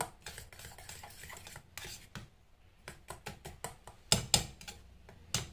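A fork whisks besan (gram flour) paste in a bowl for a face pack, a run of quick light clinks and taps against the bowl that grows sharper and louder toward the end.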